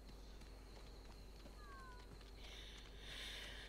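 Cat companion Mui meowing in the video game Planet of Lana, a short faint mew over steady game ambience and low background hum.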